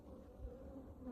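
Honeybees buzzing around a recently split hive, a faint, steady low hum that stays even and close for a brief moment.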